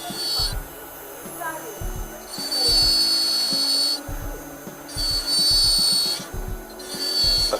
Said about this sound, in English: We slowly engage the burr, remaining all the while at least 2 millimeters below the free gingival margin.